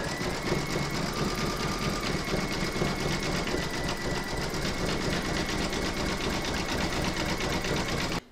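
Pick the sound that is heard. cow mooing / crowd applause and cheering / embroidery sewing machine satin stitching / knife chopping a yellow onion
embroidery sewing machine satin stitching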